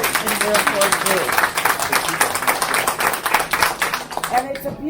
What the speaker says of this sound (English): it's a beautiful thing that you applaud